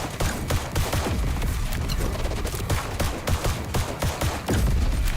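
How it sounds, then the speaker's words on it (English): Rapid bursts of explosions and gunfire-like blasts crackle through a video game battle, dense and continuous with repeated loud impacts throughout. "That was two big ass explosions."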